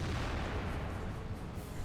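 Tank cannon fire in the video game World of Tanks, from a 128 millimeter gun, comes through as a low, booming rumble that rolls on at moderate volume without a sharp single report.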